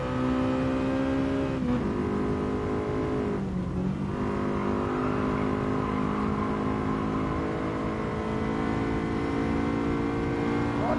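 A Honda Type R hot hatch in Gran Turismo Sport accelerates steadily, its engine note droning loud and close with rising and shifting harmonics and a brief gear-change dip, continuous with no talking.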